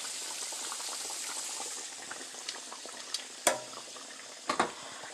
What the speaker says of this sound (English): I got the pork chops cooking